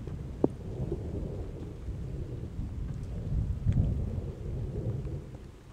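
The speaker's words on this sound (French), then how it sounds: "tout seul, dans un château, de nuit, avec un orage" Nighttime thunderstorm with steady rain and low rumbling thunder that swells and fades, plus a sharp crack early on, heard from a moderate distance with no voices.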